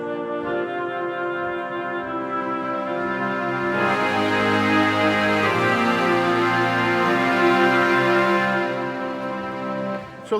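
A Yamaha Montage synthesizer plays back a layered orchestral passage of woodwind, string and brass tones, sustained chords shifting and swelling midway, with no voices.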